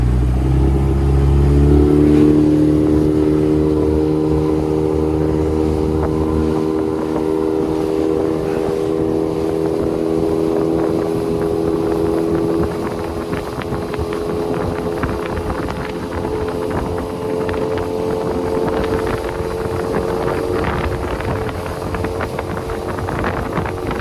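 A 14 ft skiff's outboard motor runs steadily on a ride, droning loud and close with wind buffeting throughout.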